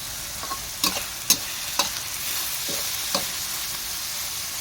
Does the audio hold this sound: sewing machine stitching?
no